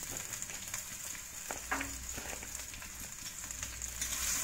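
Capsicum, onion and carrot fry in hot oil for cafe-style noodles, making a steady, dense sizzle with occasional soft stirring scrapes and no voices.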